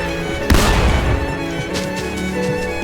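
A loud burst of Fortnite video game gunfire erupts suddenly, a booming blast with a rumbling tail, then lighter shots crackle under a steady bed of game music and background tones.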